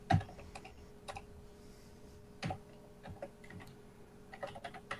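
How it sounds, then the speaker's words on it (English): Keys on a computer keyboard clack in scattered bursts, with a couple of firmer thumps and lighter ticks between them, fairly close and quiet, with no voices. "I just type in"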